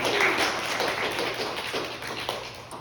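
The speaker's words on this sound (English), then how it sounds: "I'll give her a round of applause" An audience at a pastor's stand-up comedy show briefly claps and applauds for his wife in a short, dense burst that gradually thins out.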